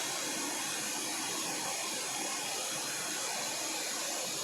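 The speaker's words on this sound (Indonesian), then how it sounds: "Oke, saya mundurin drone-nya." A DJI Mini 3 Pro drone flies backward, its steady broadband propeller whir droning continuously and evenly throughout, with no speech.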